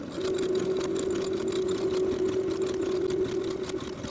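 A sewing machine hums and rattles steadily while sewing the shoulder seams of a ruffle sleeve summer top, one continuous close run with a steady motor whine and no talking.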